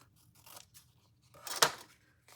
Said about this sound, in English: I'm going to trim off the excess